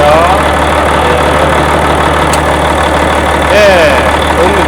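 Volvo wheel loader engine running with its air conditioner compressor turning, a steady, loud, close-up idling drone that holds evenly throughout, with a faint tonal whine sliding in near the end.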